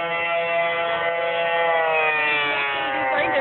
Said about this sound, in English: Why are they doing the sirens again so freaking late?